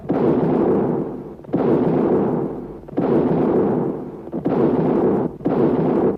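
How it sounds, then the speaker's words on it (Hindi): Booming artillery-style cannon blasts in a 21-gun salute, five heavy rumbling reports at irregular intervals of about a second or more, each decaying into the next. "21 तोपों की सलामी दी।"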